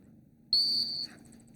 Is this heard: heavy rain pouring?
no